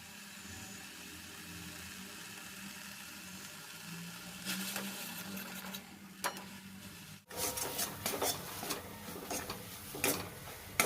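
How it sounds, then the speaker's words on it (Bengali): Flat beans frying in a pan make a quiet continuous sizzle, with occasional scraping and stirring strokes that grow busier in the second half, close by and without speech. "শুধু এটাই ভাজা হচ্ছে এটাই হতে থাকবে এখন বেশ কিছুক্ষণ হবে"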